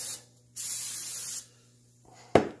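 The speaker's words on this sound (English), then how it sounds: "I'm going to use a little non-stick cooking spray on there" Non-stick cooking spray hisses from an aerosol can onto a Bella Belgian waffle maker in a few loud, close bursts, one short and one longer, then a sharp clack near the end.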